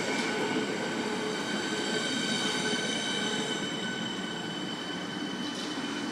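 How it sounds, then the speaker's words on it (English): A Siemens electric train departs Roxburgh Park station in Melbourne: a loud, steady roar of traction motors and rolling wheels close by, with a high sustained whine and faint wheel squeal throughout and no talking. "And the Siemens is now departing."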